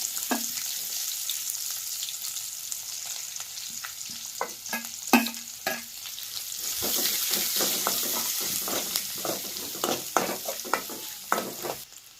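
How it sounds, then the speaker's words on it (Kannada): Chopped onions frying and sizzling in a pan for cauliflower curry, a steady close hiss broken by scrapes and knocks of a spoon stirring them, with no talking. "ಇವಾಗ ಉಳ್ಳಾಗಡ್ಡಿ ಹಾಕೋದು ನೋಡ್ರಿ"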